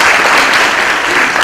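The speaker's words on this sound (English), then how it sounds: "Big round of applause for him." A conference audience gives a dense, loud round of applause that holds steady throughout, with no talking.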